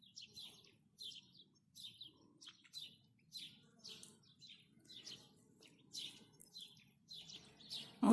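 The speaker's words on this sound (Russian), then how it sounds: "Птички еще, да?" Small birds chirp outdoors in short, repeated bursts of high tweets over quiet surroundings, fairly faint and steady across the whole stretch.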